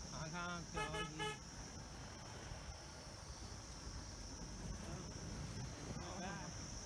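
Short honks from a vehicle horn during a jeep ride on a Nepal trekking trip, a few quick toots near the start and more around six seconds over rumbling road noise and wind, faint overall.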